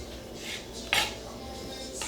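Utensil stirring enchiladas topped with cilantro in a dish, with soft scraping and one sharp clink of metal against the pan midway, another lighter tap near the end, all close and without talk.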